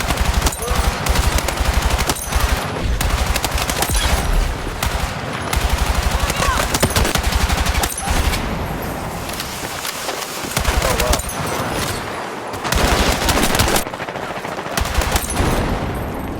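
B36A4 assault rifle firing in Battlefield 6, loud sustained bursts of rapid automatic gunfire broken by short pauses, with game sound effects mixed in throughout.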